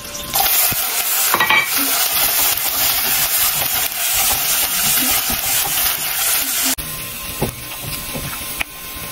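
Lard sizzling in a pan for seasoning beans, a loud continuous frying hiss with crackles close by, changing in tone near the end.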